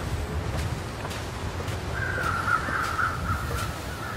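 Crows cawing in The Long Dark, a series of harsh calls from about two seconds on, set against a steady windy outdoor hiss with a few faint ticks.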